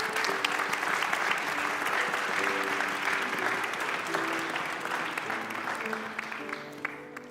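A church congregation applauds Leo during a Sunday service, with steady sustained clapping from a full room that fades slightly near the end, with faint tonal sounds underneath.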